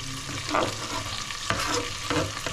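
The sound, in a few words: onions frying and browning in a pan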